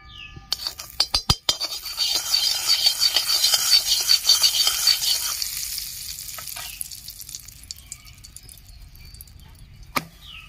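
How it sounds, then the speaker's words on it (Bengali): Aloo paratha frying in butter in a pan: a busy crackling sizzle with a few sharp taps of a utensil early on, fading to a quieter hiss and one more clink near the end. "একটু লাল লাল করে ভেজে নেব আর একটু মাখন দিয়ে দিচ্ছি আমি"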